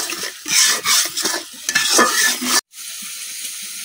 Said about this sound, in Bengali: এখন মশলাটা কিছুক্ষণ কষাইলাম।